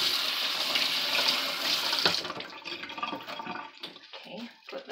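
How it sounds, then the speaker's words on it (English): A kitchen tap runs steadily while hands are washed, a close, continuous splashing rush that shuts off about halfway, leaving scattered faint drips and small handling clatter. "And let me wash my hands."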